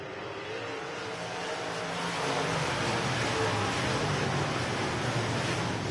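Modified race cars roar off the start of a 20-lap C-main feature on a dirt oval, a broad, steady engine din that swells louder about two seconds in as the field accelerates away.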